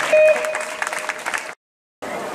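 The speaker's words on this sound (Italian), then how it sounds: "facciamo un applauso al sindaco Sarcone" Applause from an audience at a big band concert, greeting the town's mayor on stage; a burst of clapping fills the first second and a half, breaks off briefly, then resumes at moderate loudness.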